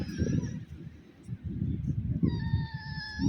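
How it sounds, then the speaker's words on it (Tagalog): A cat meowing at night along the Abu Dhabi corniche near a fish market, a few short nearby mews over busy crowd murmur and street bustle. "May nakita po akong pusa."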